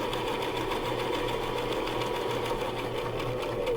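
Sewing machine stitching a square of fabric, a steady, fast mechanical chatter with an even pulsing rhythm, close and continuous throughout with no talking.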